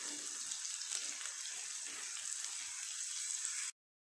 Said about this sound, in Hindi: प्याज गोल्डन ब्राउन होने तक इसे फ्राई करते रहिए।